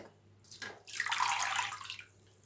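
Water pours and splashes into a bowl of soaked vermicelli as it is rinsed for a sweet dish, a single swelling burst of running water that fades out, close and without talk.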